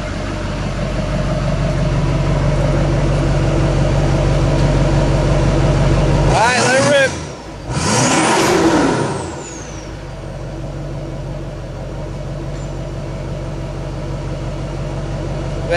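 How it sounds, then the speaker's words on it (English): A 2008 GMC 3500 pickup truck engine running on HHO idles steadily, then revs hard in two quick, loud bursts before dropping back to a rumbling idle. "Give it some throttle, see what happens."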